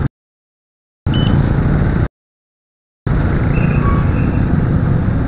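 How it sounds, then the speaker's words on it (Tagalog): Weekday road traffic of cars and motorcycles, a loud, close broadband engine and tire rumble heard in two bursts separated by abrupt silent gaps. "Ating traffic dito."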